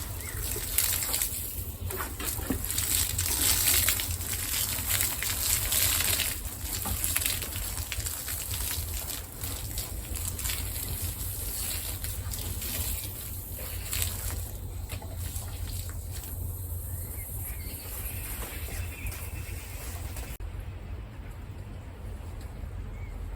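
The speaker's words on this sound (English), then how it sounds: "it's actually started raining" Rain pours down outside a garden shed as a continuous broad hiss, fairly faint and steady, with small spattering variations throughout.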